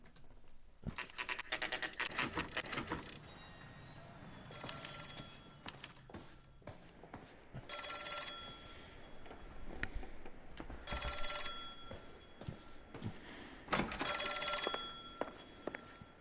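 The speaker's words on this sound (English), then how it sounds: "Answer the phone, eh?" A telephone rings in the video game L.A. Noire, with repeated bursts of old-style bell ringing separated by pauses, loud and close, alone with no talk.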